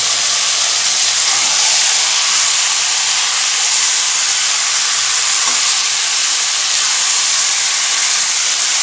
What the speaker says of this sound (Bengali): এবার এই পেঁয়াজের মধ্যে আমি মাংস ম্যারিনেট করে যে এটা রেখেছিলাম সেটাও দিয়ে দিচ্ছি